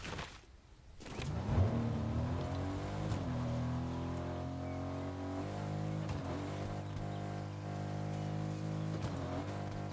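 Car engine droning steadily in Fortnite Zero Build, a loud sustained hum with rising pitch as the vehicle pulls away, continuing evenly with slight shifts through the drive.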